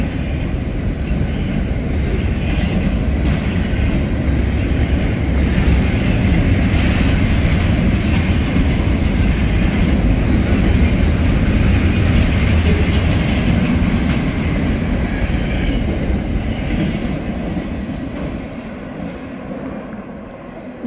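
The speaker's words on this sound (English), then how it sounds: "And here's the end of this train." A track geometry train rolls past a rail yard at Winslow, its railroad cars clickety-clacking in a loud, continuous rumble that stays close and steady before easing off slightly at the tail end.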